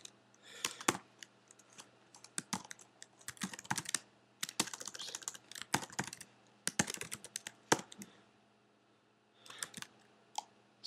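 Bursts of typing on a computer keyboard, quick clattering key clicks in uneven runs separated by short pauses, close and fairly quiet with no talking.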